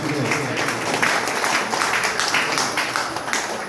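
Audience applause at a local stage event after a song, a brief burst of dense, close clapping from a crowd with a few voices mixed in.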